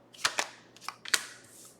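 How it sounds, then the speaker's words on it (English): Tarot cards are shuffled by hand in a few quick, crisp riffling bursts, close and fairly quiet, with nobody talking. "All right, gotta wait for the right shuffle."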